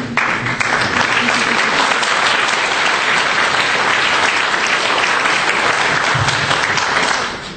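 An audience bursts into loud, sustained applause, dense clapping that holds steady for several seconds before fading slightly at the end.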